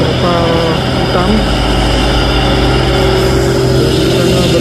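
A 6x4 truck covered with a black tarp rolls past on the road, its steady engine rumble continuous and fairly loud, mixed with general traffic noise and a voice talking over it.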